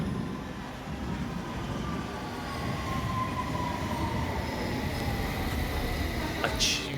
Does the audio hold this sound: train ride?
yes